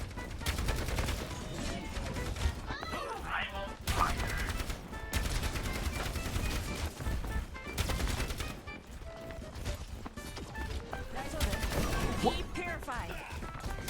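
Gunfire from Orisa in Overwatch 2, rapid continuous bursts of shots with crashing impacts throughout, loud and busy game sound with no gaps.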